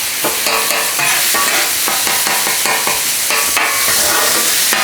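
Onions stirred into a seasoned ground meat mixture on a hot surface while making crunchwrap supremes, with steady scraping strokes over continuous loud sizzling, close up and without talk.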